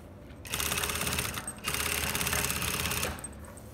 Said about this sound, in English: just come to the machine and sew it